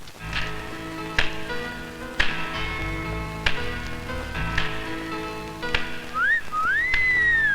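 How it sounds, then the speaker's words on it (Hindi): Melodious human whistling from a man, a clear rising-and-falling tune near the end, over a busy music-like backdrop with sharp periodic taps; no talk. "सुरीली सीटी थी"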